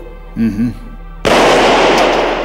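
A short voice is cut off by a sudden, loud burst of gunfire that keeps crackling through to the end.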